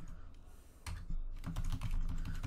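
A name being typed on a computer keyboard, with a few quiet keystrokes at first and then a dense, steady run of close key clicks with no one talking.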